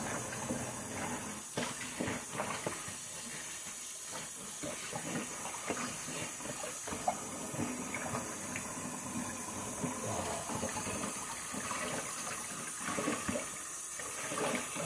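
Tap water runs steadily while a tie-dyed T-shirt is rinsed, a soft continuous splashing with small surges and sloshes.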